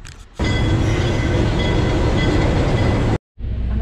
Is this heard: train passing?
yes